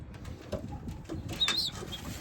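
Racing pigeons coo softly in a loft, faint low murmuring calls repeating in short pulses, with light shuffling and a brief high chirp; quiet and close, no speech.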